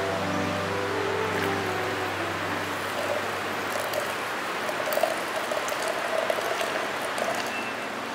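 Hot water, 360 ml, pours onto 30 grams of coffee grounds to brew iced coffee, making a steady, close splashing hiss throughout.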